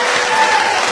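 An audience cheers and applauds in a burst of loud, dense clapping and crowd noise, heard close and alone for a brief moment.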